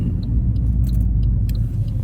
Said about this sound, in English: It's fast car, doing fast car things.